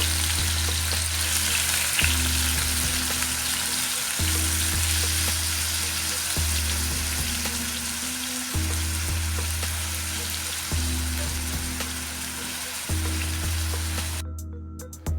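A shawarma sandwich sizzles steadily in a pan over a low flame, a continuous close frying hiss with a low hum cycling every couple of seconds, and no talk.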